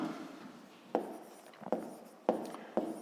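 Chalk or marker strokes on a board during a fifth-grade maths lesson: four short, crisp scratches spaced irregularly against quiet room tone, no speech.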